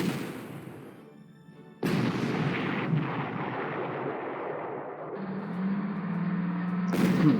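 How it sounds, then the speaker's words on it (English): A German 88 gun fires in the Panzer Corps war game, giving a sharp artillery report. A rumbling, sustained boom follows that carries on under a low droning tone and stays loud to the end. "And the 88 gun finishes that."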